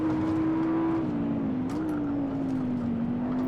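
A race car engine in the Assetto Corsa racing sim, running on slick tyres, holds a steady loud drone with its pitch dipping and rising slightly as revs shift, continuous and close with no talk.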